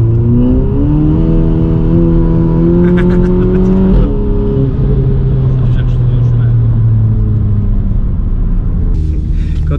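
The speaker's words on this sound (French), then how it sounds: "voiture rétrograde, ouais, ça fait un petit pop, j'aime bien ça" A VW Polo GTI Stage 3 with a Milltek exhaust line revs loudly and holds high engine tones, then drops through a downshift around the midpoint, with a few faint pops near the end and voices talking over the engine.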